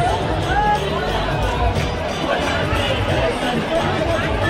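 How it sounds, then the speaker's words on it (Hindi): A dense crowd of devotees at a Hindu temple on a Sawan Monday, a loud steady babble of many voices with footsteps and bustle, while a nearby voice talks over it. "यहाँ बहुत ज़्यादा भीड़ है"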